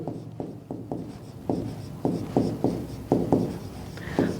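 Pen scratching across paper while working out a Class 12 maths problem: a close, steady series of short scribbling strokes in quick, uneven rhythm, with no talking.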